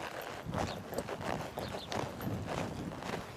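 A horse walks slowly while being worked on its leads, hooves clip-clopping in a steady, continuous rhythm at moderate distance, with no talk over it.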